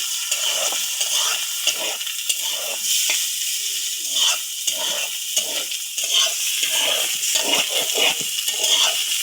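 Egg and noodles fry in a pan with a steady hiss broken by repeated stirring scrapes and clatters, close and moderately loud, with no talk.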